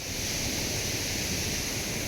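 Water pours over a rock ledge at a waterfall near Devrukh, a dense, steady rushing roar that fills the whole clip without a break.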